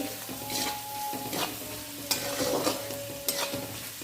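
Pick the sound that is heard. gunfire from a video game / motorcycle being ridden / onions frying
onions frying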